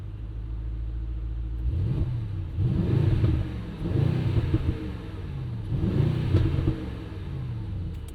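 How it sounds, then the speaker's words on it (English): Biturbo V8 exhaust of a 2025 Mercedes-AMG GLE 63S, valve open, giving three deep, grunty revs over a low idle rumble, each swell rising and falling close to the microphone. "open up the exhaust valve and give you some revs"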